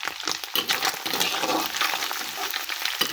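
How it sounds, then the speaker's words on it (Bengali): Rice-and-egg breakfast frying in a pan with turmeric, a steady close sizzle and crackle with scraping stirs, loud and continuous with no talking. "আমি এবার আরেকটু ভেজে নেব।"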